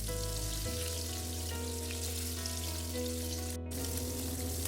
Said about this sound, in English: when the oil is hot enough, we will add the fish pieces seasoned with salt and turmeric powder